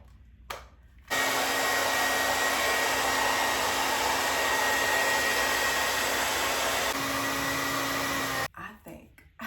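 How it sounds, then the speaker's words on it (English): A hair dryer blows steadily on hair at close range for about seven seconds, a loud continuous whoosh with a faint whine that starts abruptly and cuts off near the end, with brief quiet moments on either side. "so I have to blow dry it."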